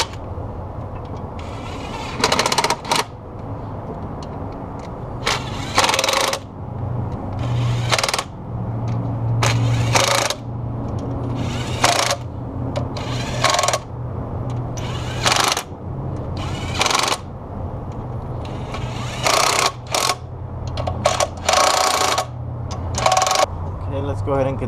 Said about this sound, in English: let's go ahead and bolt them on using the 12mm socket